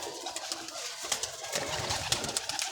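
Pigeons coo softly and repeatedly at close range, a low, steady murmur of calls with no talking over it.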